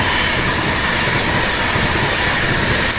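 A passenger train on the Cambridge line rolls along the rails with a loud, steady rumble and broadband rush, heard close and continuous with no talk.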